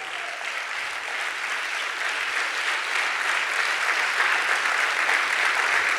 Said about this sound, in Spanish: dale aplauso